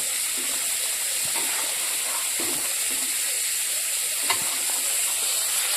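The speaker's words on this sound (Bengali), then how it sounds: "পনিরগুলো আর একটু ভেজে নেবো" Paneer pieces fry in a kadai with a steady, close sizzling hiss that barely changes, broken by a few soft scrapes and clinks of stirring. Nobody speaks.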